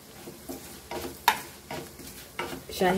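Whole cumin and shahi jeera hit hot oil in a pan, giving a soft sizzle with short bursts of crackle and a few light stirs and pan scrapes, close and fairly quiet.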